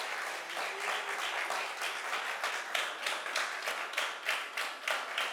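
At Sonu Sood's Explurger app launch, a crowd keeps up sustained, steady applause: a thick wash of many hands clapping, with a faint pulsing rhythm and no break for the whole stretch.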